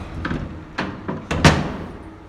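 The door of a hand-pulled rope elevator in Milwaukee swings shut with several quick knocks and a final firmer clunk, close up and with no speech.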